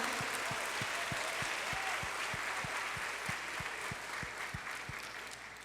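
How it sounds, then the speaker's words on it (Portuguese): A church congregation claps in a steady, slightly uneven rhythm at a Wednesday service, roughly twenty distinct claps at moderate distance over a soft room hum, gradually fading near the end. "Então, igreja, vamos aplaudir ao Senhor"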